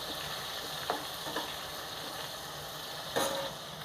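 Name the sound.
stirring and frying garlic, onion and capsicum in a pan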